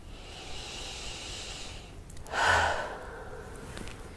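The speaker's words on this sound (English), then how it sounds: "Big breath." A deep breath is drawn during an EFT tapping session: a soft steady airy hiss swells into a louder inhale near the middle, close and quiet, with no talking.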